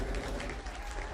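A brief burst of crowd cheering and applause, used as a sound effect, rises and fades quickly at close, even loudness.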